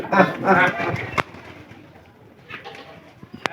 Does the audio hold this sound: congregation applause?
no